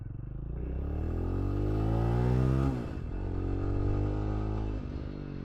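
A single-cylinder Walmart motorcycle engine revs up to a sustained high pitch, drops back, then revs again, loud and close with no one talking.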